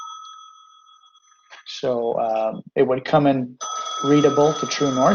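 Telephone ringing in an office during a civil engineering lesson on corridor cul-de-sac grading, a steady repeating electronic ring at the start and again near the end, sounding between and under a man's speech.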